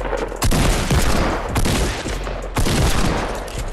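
Loud gunfire in Fortnite: sharp, heavy bursts of shots recur roughly once a second over a constant, dense background of game noise.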